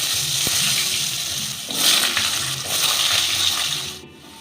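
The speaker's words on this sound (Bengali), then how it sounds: "এই আলুগুলো ভেজে নেব।" Diced potatoes hitting hot oil in a pan, a loud steady hiss and crackle close up, with a brief clink at the start and a surge of sizzling midway before it fades out.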